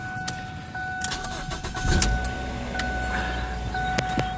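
A 2008 Ford Fusion 2.3 engine cranks and catches, settling into a steady idle with a low rumble, close by and fairly loud.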